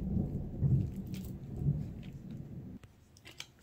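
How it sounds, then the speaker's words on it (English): Thunder rumbles during a storm, a low, rolling, continuous growl heard faintly indoors for a few seconds before fading, with light rain-like hiss and small nearby handling sounds. "You can hear the thunder"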